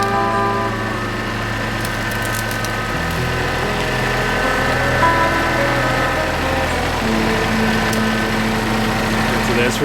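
A vehicle engine idles close by on a home homestead before driving off, a steady rumbling hum with a slight shift in pitch partway through, under faint background noise and possible voices.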